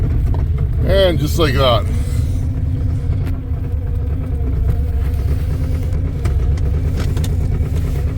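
A cold diesel truck engine with a grid heater, in snowy weather, rumbles loudly and continuously at close range, while someone talks briefly over the deep, steady drone.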